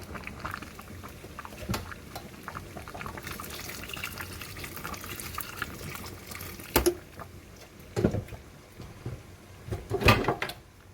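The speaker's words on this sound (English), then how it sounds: "I don't want it to be too thick, so I'm adding water to it." Water poured into a pot of simmering banga stew (ofe akwu, palm-nut soup), a steady close wash of liquid and bubbling with a few sharper clatters and splashes near the end.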